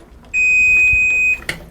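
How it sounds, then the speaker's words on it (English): Kitchen timer beeping while custard for cream puffs cooks on the stove: a single steady, loud electronic tone held for about a second, then a brief click. "There's my timer."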